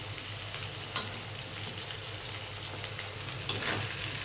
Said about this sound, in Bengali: ওগুলা তেলে ভেজে নেওয়ার জন্য যাতে ফ্লেভারটা সুন্দর হয়